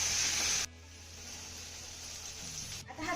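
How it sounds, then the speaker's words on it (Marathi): Chopped onion sautéing with ginger-garlic paste in a pan, a loud hiss at first that drops to a softer steady sizzle, with light stirring scrapes near the end. "आता हा कांदा आपल्याला हलक्या सोनेरी रंगावरती चांगला परतून घ्यायचा आहे"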